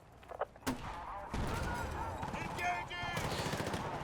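Destruction and gunfire in Battlefield: Bad Company 2, played on a Steam Deck: a few sharp early shots, then a sustained rumbling barrage of gunfire, explosions and crumbling debris, fairly quiet overall.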